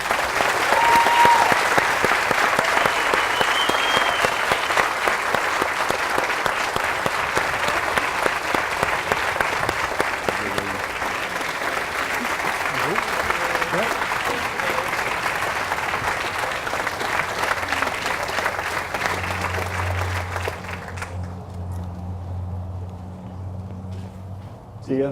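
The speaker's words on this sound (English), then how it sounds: "ask that everyone please give these beautiful, wonderful, and dedicated ladies a warm round of applause" An audience at a ribbon cutting ceremony claps loudly and steadily for around twenty seconds. The applause then tapers off quickly and a low murmur remains.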